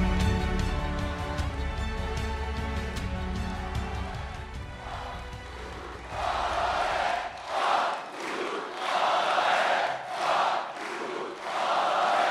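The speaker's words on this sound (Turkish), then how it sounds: "Alkışlamaya geldi şimdi sıra." A large crowd at a Republican People's Party rally for Kemal Kılıçdaroğlu erupts into loud applause, cheering and rhythmic chanting bursts after loud music fades out, the roar swelling and pulsing repeatedly.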